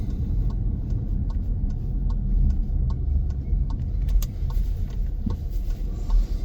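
A car drives slowly through a residential neighborhood of Madison, New Jersey, with a steady low engine hum, light road noise and faint regular ticking, close and continuous.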